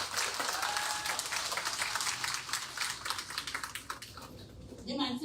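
Audience applause at the Golden Drum Award 2024 ceremony, dense and steady clapping from a crowd that holds for several seconds, then thins out near the end.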